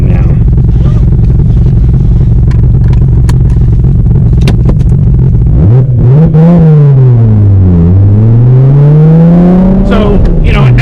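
A high-powered car rumbles as it drives off, with a low idle first and then the engine revving up and down in swells. Wind and knocks come through, and the loud rumble stays close.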